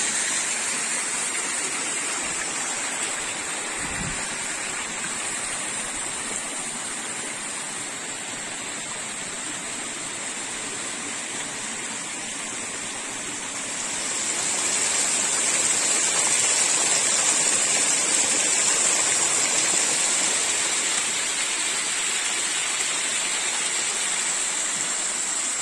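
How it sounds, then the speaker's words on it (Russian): Mountain stream rushing through the Uch-Kosh gorge near Yalta, a steady broadband roar of flowing water with a waterfall nearby, continuous and fairly close, growing louder partway through. "Вот еще один хороший поток"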